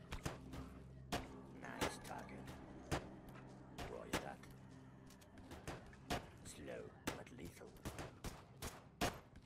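Rifle gunfire in the zombie strategy game They Are Billions: sharp, irregular cracks repeat every second or so over a low rumble, with voice lines spoken between shots.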